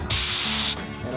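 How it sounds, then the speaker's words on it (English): A paint spray gun held open with the trigger down at about 32 PSI gives a loud, steady hiss of atomized paint for under a second before cutting off, during a 1970 Mustang restoration. "This gun is rated at 32 PSI, so I'm going to let it spray with the trigger down"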